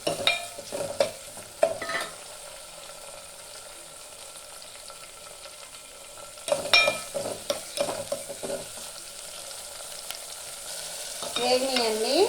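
Tomatoes, onion and green chillies fry in a pan with a soft, low sizzle, broken by bursts of stirring and scraping at the start and again midway.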